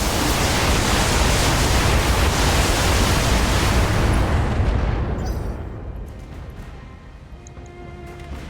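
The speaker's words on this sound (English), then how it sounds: "Which means missiles." Missiles fire and burst in the BattleTech video game, a loud dense roar of continuous barrage noise that rumbles for several seconds before slowly thinning into quieter debris and crackle.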